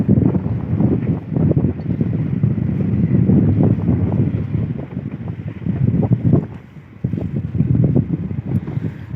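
Strong wind buffets the microphone outdoors in a farm field, a loud continuous low rumble with gusty swells and a brief lull near the end, and no voices.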